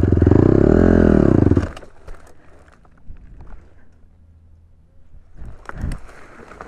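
A motorcycle engine roars loudly and its pitch swells and dips, then cuts to a low idle about halfway through as the clutch is pulled in, with faint clatter and scraping afterward.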